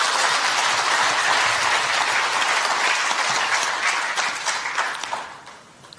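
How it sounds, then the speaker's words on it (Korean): A crowd at a political forum gives dense, continuous applause, loud and close for several seconds before thinning out and fading near the end, with no voices over it. "박수 한번 쳐주실래요?"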